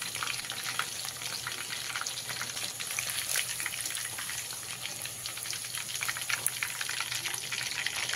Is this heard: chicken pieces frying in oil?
yes